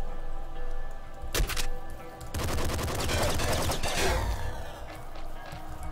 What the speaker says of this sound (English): I found a Bouncer SMG. So let's see what this is.